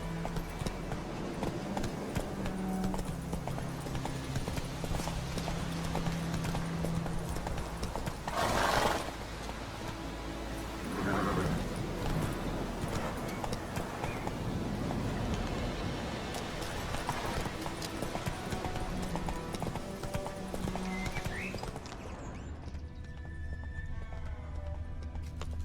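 Galloping horse hooves in The Witcher 3: Wild Hunt, a continuous rhythmic clatter with a whinny midway, set against game music and ambience, and the sound thins out near the end.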